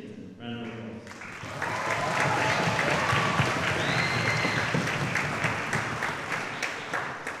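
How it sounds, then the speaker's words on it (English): Round of applause for staff at an orchestra concert, swelling after a brief lead-in into steady, full clapping from a large audience with crowd murmur and a few whistles, sustained for several seconds. "Round of applause."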